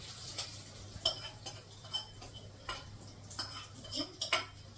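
A spoon clinks against a bowl as tempering is stirred into curd, giving light scattered metallic taps and scrapes at an uneven pace over quiet background.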